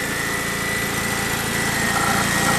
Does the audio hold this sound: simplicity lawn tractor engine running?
yes